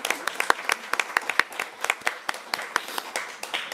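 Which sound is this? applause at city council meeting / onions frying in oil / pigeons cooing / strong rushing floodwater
applause at city council meeting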